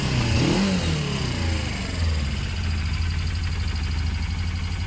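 A motorcycle engine, from a BMW F650 Funduro or Kawasaki ZL600 Eliminator, runs steadily just after starting, with a brief rev at the start settling into a constant close idle rumble.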